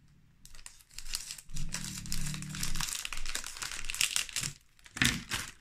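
Close, crinkly crackling and tearing as tape is cut and pulled, with short bursts and pauses, plus a sharp snip near the end.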